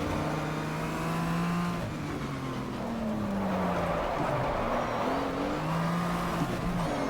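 A race car engine at full throttle in the GTR2 racing game, a steady, loud drone whose pitch rises and drops with each gear change, continuous throughout.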